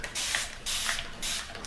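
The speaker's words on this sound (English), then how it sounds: "this is just water that I'm spraying on it" Tap water spritzed from a spray bottle onto old 1940 comic book paper: three distinct hissing bursts, close and fairly loud, separated by short pauses.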